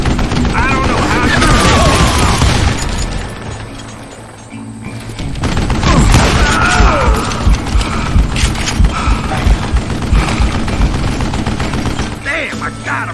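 Rapid bursts of gunfire from the Western shooter game Call of Juarez Gunslinger, dense and loud through most of the stretch, with a brief lull around the middle, layered with game effects and a voice talking over it.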